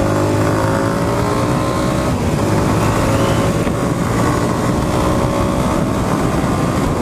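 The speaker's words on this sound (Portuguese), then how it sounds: "Vamos dar uma aceleradinha." A car engine revving and accelerating while warming up, a loud, steady, close drone with rising and falling engine tones throughout.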